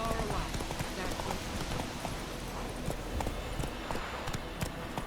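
Roach the horse gallops in The Witcher 3, a steady rapid clip-clop of hooves running continuously under game music and ambient sound, with some voices nearby.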